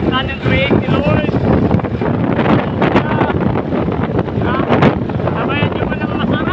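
Steady wind rushes across the microphone throughout while a person talks over it, the gusts holding loud and constant.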